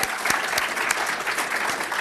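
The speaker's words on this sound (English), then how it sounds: "Let's give them a round of applause." Dense, steady applause from an audience at a university research pitch event fills the whole stretch, many hands clapping close together at an even loudness with no talking over it.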